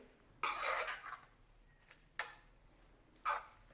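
A spoon scrapes and clanks against a pot while carrot halwa mixture is stirred, in three distinct close bursts of metallic scraping separated by short pauses.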